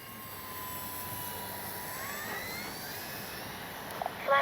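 An X-Fly Spitfire radio-controlled plane takes off in wind, its electric motor a steady whine that climbs in pitch as it speeds up, moderately distant, with a brief gust or handling bump at the end.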